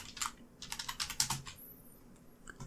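Rapid typing on a computer keyboard, a close, steady patter of key clicks in quick bursts with a short pause near the end.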